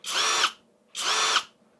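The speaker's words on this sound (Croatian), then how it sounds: "Mašina posjeduje kočnicu, tako da čim pustite taster, ona zaustavlja." A Parkside Performance PBSPA 12 C3 12V cordless drill whirs loudly in two short bursts. Each run ends abruptly as its brake stops the motor, with a brief quiet gap between them and no voices.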